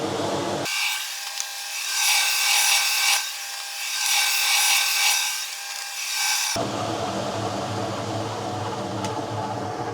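A rough, steady rasping of sanding on a ski base runs for several seconds in rising and falling strokes, then cuts off abruptly.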